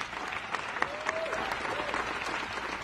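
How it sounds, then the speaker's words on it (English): A crowd applauds astronauts at a news conference after the first Blue Origin passenger flight, a steady wash of clapping heard from within the room, with no one talking over it. "So let's give another round of applause for our astronauts."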